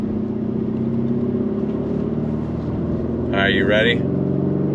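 A 2024 Porsche Cayenne Turbo e-Hybrid SUV engine hums steadily and then swells as it begins to rev and accelerate, loud and close, with a short spoken phrase over it.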